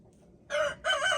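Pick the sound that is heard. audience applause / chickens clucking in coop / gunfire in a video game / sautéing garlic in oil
chickens clucking in coop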